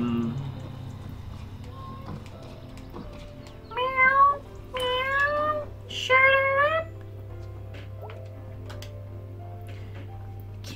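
In the video game Night in the Woods, a cat gives three short, clear meows close together, spaced over a few seconds above a steady low hum.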